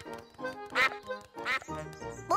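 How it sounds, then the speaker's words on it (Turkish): A cartoon duck and her friends give two short, bright quacks about half a second apart, close and clear, mixed with light children's-show music. "Bu bayan ördek ve arkadaşları."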